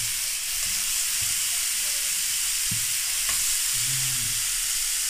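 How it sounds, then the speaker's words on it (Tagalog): Pork sizzles in its own rendered fat in a pan, a steady, loud, close frying hiss with occasional soft stirring knocks and no voices. "igigisa natin siya sa sarili niyang mantika"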